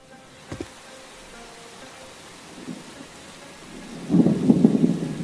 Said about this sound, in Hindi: अरे ये क्या, आज फिर से बारिश, लकड़ियाँ भी नहीं काट पाया।